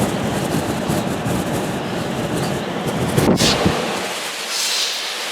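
Strong wind at Cumberland Bay on Lake Champlain roars through a slightly open window, a loud, steady rushing buffet that eases near the end.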